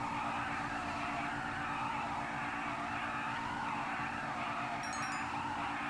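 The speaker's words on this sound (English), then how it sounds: "Okay, the car just arrived." Engine and tire noise from a car driving in GTA 5 Online, a steady broadband roar with a sustained drone that continues without a break, loud and close, with no voices.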